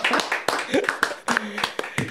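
Scattered hand claps from a few podcast hosts break out for their guest in a small studio, sharp close taps mixed with speech and laughter running over them.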